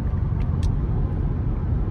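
A Ford F-150 pickup engine drones low and steady under heavy load towing an aluminum gooseneck trailer on a highway, a constant rumbling roar with faint road noise and no voices.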